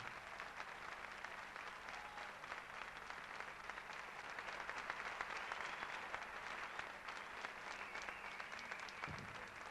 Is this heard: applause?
yes